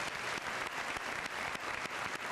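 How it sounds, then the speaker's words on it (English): A crowd at a high school senior assembly applauds graduating students, a dense, even round of clapping that fills the whole stretch at moderate distance, no voices on top. "Let's give these students a nice round of applause."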